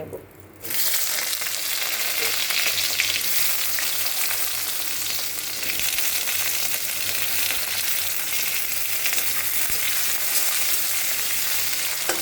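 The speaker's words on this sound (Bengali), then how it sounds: "বেগুনটা ভাজা হতে থাক" Small chopped eggplant pieces fry in oil with a loud, continuous sizzle that starts abruptly after a brief quiet moment and holds steady, close and even, throughout.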